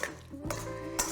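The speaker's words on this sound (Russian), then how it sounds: "Я пока открою банку." A jar of caviar being opened in a kitchen while making Olivier salad: a few short metallic clinks and a scraping twist of the lid, close and fairly quiet, with no talking.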